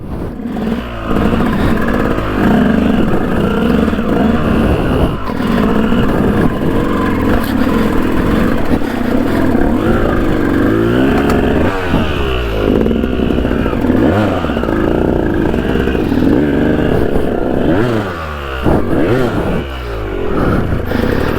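A motorcycle engine runs continuously and loudly in a forest after catching fire, idling with uneven revs and some clatter throughout.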